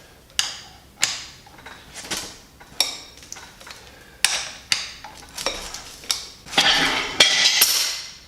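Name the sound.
breaking loose Supra flywheel bolts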